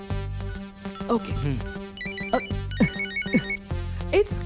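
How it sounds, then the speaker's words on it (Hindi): A telephone ringtone sounds in a Hindi comedy film scene, with short repeating electronic tones about midway, mixed under background music and voices. "फोन करो फोन।"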